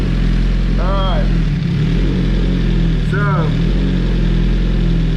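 A Suzuki GSX-R1000R with a full exhaust idles steadily nearby, its low, even rumble continuous throughout while someone talks over it.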